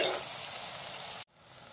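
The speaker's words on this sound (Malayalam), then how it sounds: "സവാള നന്നായിട്ടൊന്ന് വാഴട്ടെ," Onions sautéing in oil in a pan for velapara fish curry, a steady close sizzle with stirring that stops abruptly near the end, leaving quieter residual frying.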